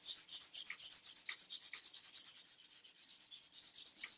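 Hand sanding a wooden gun stock along the grain during refinishing gives a steady run of soft, rhythmic rasping strokes, about four per second, close and fairly quiet with no voices.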